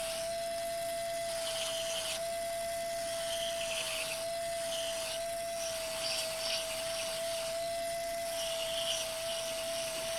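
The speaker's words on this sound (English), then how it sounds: "as I'm going through with the sanding, the piece becomes prettier and prettier" A modified pedicure wand sands a small piece with a steady, high motor whine and a faint rubbing hiss, continuous and fairly quiet throughout.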